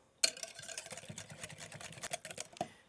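Heavy cream and instant coffee crystals being whisked by hand in a bowl for homemade hazelnut gianduja spread, a quick run of light, irregular clinking and scraping taps that starts sharply and continues close up without talk.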